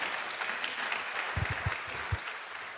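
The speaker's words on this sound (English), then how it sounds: "Can you give Dr. Adigwe another big round of applause?" An audience at a conference plenary session applauds a speaker, a broad, steady wash of clapping that stays fairly faint throughout.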